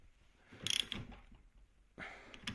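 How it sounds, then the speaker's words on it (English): A 22mm spanner ratchets a nut tight on a Bosch VE injection pump of a 200TDI Land Rover engine, with a quick run of faint metallic clicks followed by further soft mechanical handling. "you'd put your 22mm nut on, you'd tighten that up with your 22mm spanner."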